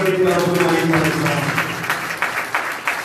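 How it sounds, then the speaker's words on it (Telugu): A church congregation at Sunday worship claps loudly together in a dense burst of applause, mixed with voices that carry through the clapping. "గట్టిగా చప్పట్లు"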